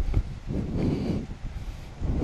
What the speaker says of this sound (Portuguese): Ventando, hein? Ventinho forte. Forte mesmo.